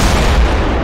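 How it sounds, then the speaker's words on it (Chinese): Artillery guns and cannons fire in a 1981 mountain border battle at Fakashan, a loud, dense burst of booming blasts that fills the brief moment with no voices. "我们的大炮怒吼 了，一发发的炮弹呼啸着飞上法卡山顶"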